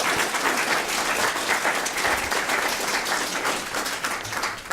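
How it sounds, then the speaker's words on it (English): Full, continuous applause from a room of students and donors at a Davenport University scholarship reception, a dense, even roar of many clapping hands that holds steady for nearly five seconds and tapers slightly at the end. "So give everyone a round of applause that's here, students and donors."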